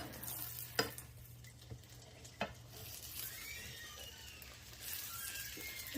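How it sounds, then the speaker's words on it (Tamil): An omelette fries in a pan with a soft, fairly faint sizzle, broken by a few sharp clicks and taps of a utensil, with a low hum underneath. "இனி இது இப்படி கொஞ்சம் பொரிஞ்சு வரட்டும்."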